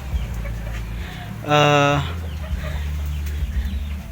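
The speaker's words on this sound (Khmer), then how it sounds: "មាន់នេះគឺមាន់សម្រាប់ដែលយើងទុកធ្វើម្ហូប" Farm chickens kept for eating let out a short, loud burst of clucking about midway, standing out over a steady outdoor background hum.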